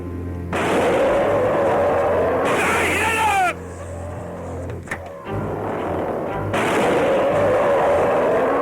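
Gunfire in a horror film scene, with long, loud, harsh blasts that last seconds at a time, broken by a quieter stretch with a sharp crack before the roar returns.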